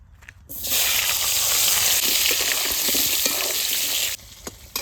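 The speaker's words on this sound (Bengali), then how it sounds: "এবার আলুটা ভেজে নেবো" Potatoes dropped into hot oil set off a sudden loud, steady sizzle that holds close for several seconds and then cuts off, with no voices.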